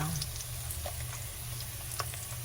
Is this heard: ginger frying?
yes